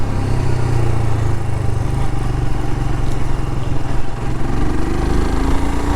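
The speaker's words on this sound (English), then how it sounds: "Second gear going up the hill." A Royal Enfield Scram 411 single-cylinder motorcycle climbs a hill in second gear, its engine note steady and loud throughout with a low rumbling drone and a slight rise in pitch near the end.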